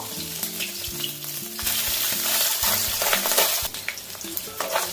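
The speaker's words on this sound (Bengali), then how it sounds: "ট্যাংরা মাছগুলো ভাজা হয়ে গেছে" Tengra fish coated in mustard oil sizzle loudly in a pan, a dense crackling fry that swells and spits in bursts, with a low music bed running beneath.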